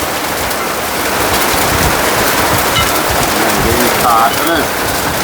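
Steady heavy rain pours down in a village, a dense hiss of drops hitting surfaces, with a few faint voices murmuring underneath.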